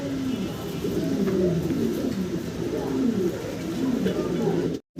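Fancy pigeons at a farm coo in low, rolling, overlapping calls throughout, close and steady, against a busy background hum with some talking mixed in.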